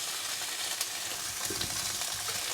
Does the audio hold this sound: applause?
no